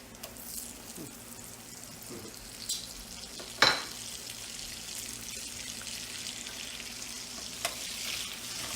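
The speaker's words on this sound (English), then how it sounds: "fry in a little bit of butter" Food fries in bacon grease and butter in a cast iron skillet, a soft steady sizzle with a few clinks and one sharper scrape or tap partway through, fairly quiet and without speech.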